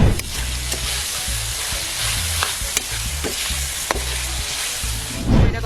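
Food sizzles steadily in hot cooking oil, turned and stirred now and then with scraping clatters, frying until crispy for an exotic Filipino dish; someone talks briefly over the crackle.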